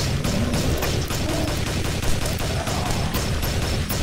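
Video game gunfire with heavy recoil rattles out in rapid automatic bursts, dense repeated shots loud and close for the whole stretch, with no talk.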